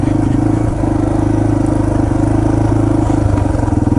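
A Yamaha TT-R230 dirt bike engine runs steadily and loudly up close on a Windrock Park trail, a continuous chugging drone with slight rises in revs and rattling clatter throughout.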